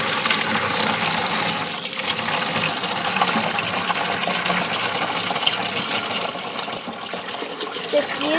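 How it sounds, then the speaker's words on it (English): Water gushes steadily from a tap into an ice cream bucket, a continuous rushing fill heard close up for several seconds with no talking. "fill an ice cream bucket about halfway"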